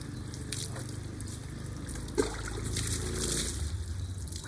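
Water trickles and splashes softly and steadily while a baby is bathed, with one brief louder splash midway and no voices.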